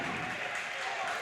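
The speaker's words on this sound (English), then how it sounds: "Crowd getting fired up." Crowd cheering in a gym during a high school basketball game between The Patrick School and New Brunswick, a steady, dense roar of voices and claps throughout.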